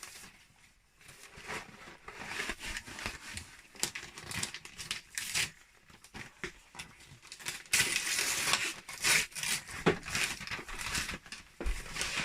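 A wrapped box of Belgian biscuits being opened by hand: close, irregular crinkling and tearing of paper or plastic wrap in bursts, growing busier and louder toward the end.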